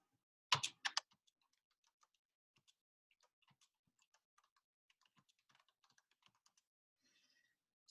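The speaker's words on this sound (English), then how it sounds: "I'm going to type that too." Typing on a computer keyboard, a few louder clicks at first followed by soft, scattered keystrokes in a quiet room.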